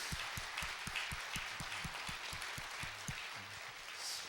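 A church congregation claps for the praise team at a special dawn prayer service, a fairly faint, even patter of applause with a few louder individual claps standing out near the front.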